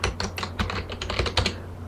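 Keys clack in a quick, uneven run of typing on a computer keyboard while text is entered into an Excel flowchart box, close and fairly loud over a low steady hum.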